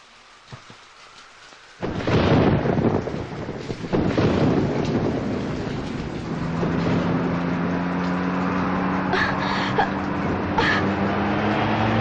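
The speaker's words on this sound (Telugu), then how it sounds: "అమ్మా భారతి ఇంత రాత్రిపూట ఈ వర్షంలో ఎక్కడికమ్మా బయలుదేరావు" A heavy night rainstorm roars with wind gusts and rumbling thunder, loud and steady after a sudden onset, with faint tonal sounds underneath later on.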